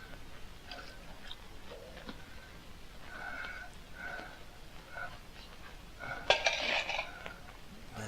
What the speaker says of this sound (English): There's kicking a can.